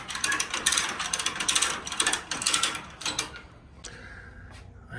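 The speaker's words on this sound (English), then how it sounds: "it's time to bring the chassis back up onto the rack." A Daihatsu Midget II chassis is cranked up onto a rack, giving a run of close, rapid ratcheting clicks in bursts for about three seconds before the mechanism goes quieter.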